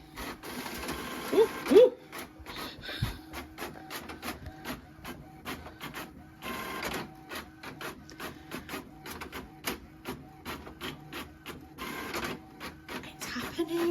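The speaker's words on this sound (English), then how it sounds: "It's happening. Look, it's printing." An office printer runs through a manuscript, its mechanism whirring and clicking in steady repeated passes over about fourteen seconds, with a few short excited exclamations near the start.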